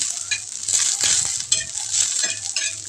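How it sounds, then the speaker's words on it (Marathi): Green chillies roast in a little oil in a pan, giving a bright crackling sizzle with stirring scrapes and occasional utensil clinks, close and fairly loud. "आता ते मी मिरच्या व्यवस्थित भाजून घेते पूर्ण"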